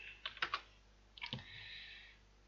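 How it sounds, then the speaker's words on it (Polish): Keys tapped on a computer keyboard while a name is typed into a server settings field, two short bursts of a few quick clicks separated by a pause, close and fairly quiet with no talking. "Wpisujemy tu nazwę."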